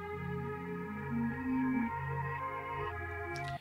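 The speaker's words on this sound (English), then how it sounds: "And what I did was reverse it and then pitched it down a full octave." Reversed sample pitched down a full octave, a dense low sustained texture with swelling, slowly shifting low notes and steady harmonic drones, ending in an abrupt cutoff, with no voices.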